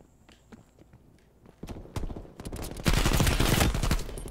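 Gunfire in the Call of Duty Black Ops Cold War multiplayer game, a series of sharp bursts and shots that build from scattered cracks into a loud, dense volley over the last half, with no talk.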